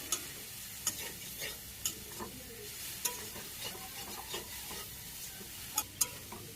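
Vegetable curry (chorchori) with garlic stirred in a pan, a steady quiet sizzle with scraping spoon strokes at an irregular pace, close by and alone.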